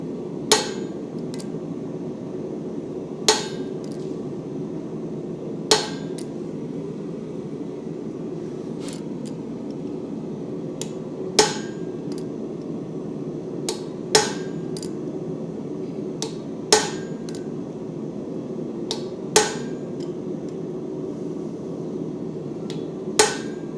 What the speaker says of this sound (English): this is a rounded point chisel. I'm kind of finding the groove and rocking it forward.